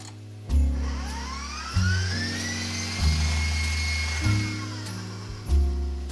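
An electric mixer creams cookie dough until smooth, a loud close motor whir that surges and dips in repeated pulses every second or so as the speed shifts, running on without talk.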